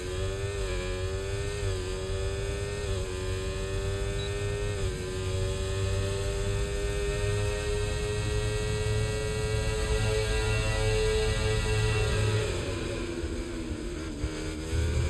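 Race car engine in the F1 24 video game, a steady, loud, tonal engine drone that holds continuously, with the pitch sliding gradually downward and back up as the car slows and accelerates, and no talking.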